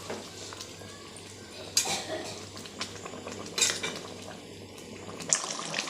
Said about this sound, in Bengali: আমি ঢাকা দিয়ে দিয়ে কষাচ্ছি